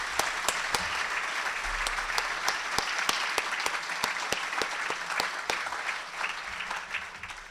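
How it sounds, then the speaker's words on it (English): Audience applause at a city's State of the City address, steady and moderately loud with many hands clapping together over its full length. "Let's give them all a round of applause."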